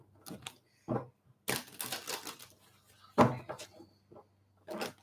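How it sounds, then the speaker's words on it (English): Bursts of papery riffling and soft taps as a deck of tarot cards is shuffled, several separate flurries with short pauses between them. "One more shuffle, and then we'll cut the deck."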